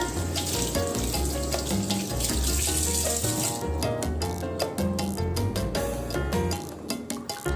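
Tap water runs and splashes over a pumpkin being washed in a sink, a steady close hiss for the first half that breaks into scattered drips and knocks, with no talking.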